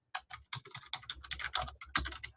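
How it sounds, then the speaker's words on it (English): Quick, uneven bursts of keystrokes clatter on a computer keyboard, a close run of crisp taps and clicks with brief pauses, heard alone without talk. "But if I start typing"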